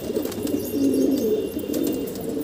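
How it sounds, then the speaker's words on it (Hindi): Domestic pigeons released from a home loft coo steadily in soft, overlapping low calls, close by and fairly loud, with faint rustling around them. "ये देखिए कबूतर उड़ रहा अपना चीना, सब कबूतर इधर से उधर मस्ती में"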